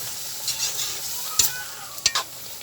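Jackfruit and vegetables simmer in coconut milk in a wok, with a soft sizzle beneath several short scraping strokes of a stirring spoon, two sharper scrapes standing out near the end.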